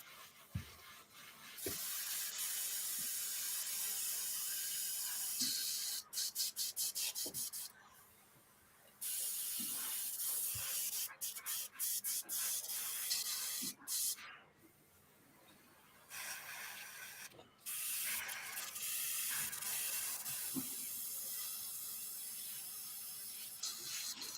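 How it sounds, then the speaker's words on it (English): An airbrush sprays paint onto a figure's fingers with a loud, close, airy hiss that runs in long bursts broken by short pauses and sputters. "now the airbrush isn't making that noise, Tommy."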